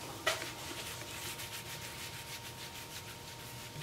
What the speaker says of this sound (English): so now I need to take a rag and wipe off the outside